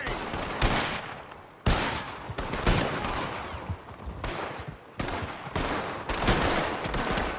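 Gunfire in Red Dead Redemption 2, a shootout with Colm O'Driscoll: repeated loud, sharp shots and bursts crack in close succession, each trailing into echoing rumble, with brief gaps between volleys.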